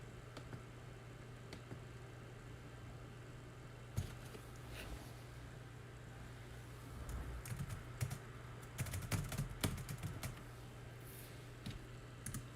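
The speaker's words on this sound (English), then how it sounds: "I'll actually see if I can type it in." Computer keyboard typing, clicking keys in short irregular bursts at close range over a steady low hum, with no talking.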